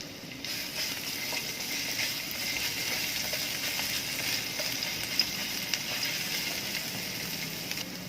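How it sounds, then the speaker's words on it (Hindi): Garlic paste fries in olive oil in a pan, a constant crackling hiss with a few small pops near the end. "जस्ट 1 मिनट आपने इसे फ्राई करना है।"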